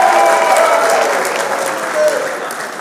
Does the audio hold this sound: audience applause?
yes